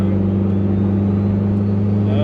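A car fitted with Wunderladen Racing six-piston bolt-on calipers drives along steadily, its engine giving a continuous low hum and rumble at close range, with no talking.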